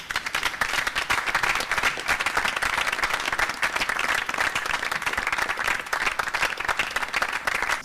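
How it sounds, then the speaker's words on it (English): An audience at an oratorio concert by a Lagos chorale claps in loud, dense, continuous applause that holds steady throughout. "Please keep the applause going."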